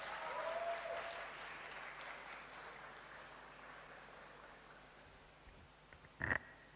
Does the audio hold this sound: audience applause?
yes